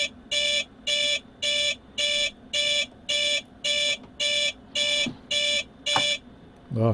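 Cockpit landing gear warning in Microsoft Flight Simulator flown in VR, a loud electronic beep repeating evenly about once per second for eleven pulses, with a brief voice at the end.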